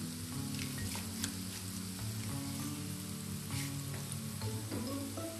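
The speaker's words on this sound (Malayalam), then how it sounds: "അപ്പോൾ സവാളയൊക്കെ ചെറുതായിട്ട് വഴന്ന് വരുന്നുണ്ട്" Chopped onions sauté steadily in a hot pan with a little salt, a continuous close sizzle with crackling spits and occasional stirring scrapes, with no talking.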